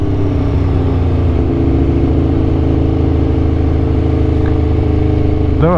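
An Aprilia RSV4 superbike engine drones loud and close at a steady pitch, then revs sharply upward in the final moments, with no voices.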